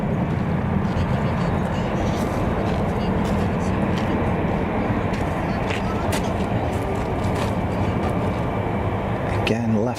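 An airliner departing the runway at Zurich Kloten Airport, a steady loud jet roar heard close up that holds for the whole stretch, with someone talking over it.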